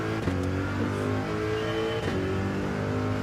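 A Corvette's engine in Gran Turismo 7 pulls hard under acceleration, a loud, continuous rising drone with a brief dip partway through, as if shifting gears.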